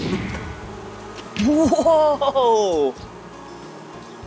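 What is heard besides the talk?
bees buzzing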